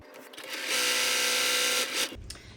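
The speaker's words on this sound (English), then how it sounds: "I'm gonna line them up nice and straight, and I'm gonna sew right here." A sewing machine running a straight stitch across quilt pieces, a steady whirring hum that speeds up, holds for about a second, then slows and stops, close and fairly loud.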